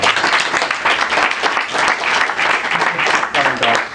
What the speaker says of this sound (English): would you all like to give a round of applause to my fellow hosts?